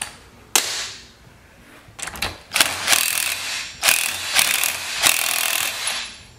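Ratchet wrench with a three-quarter socket working on an old salvaged chainsaw, giving close, loud bursts of clicking and clattering metal strokes over about six seconds.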